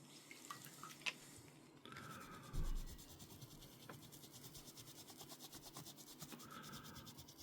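Rubbing and scrubbing of dirt wash off a toy X-Wing model, a soft, continuous close-up friction with a few small taps, quiet and alone.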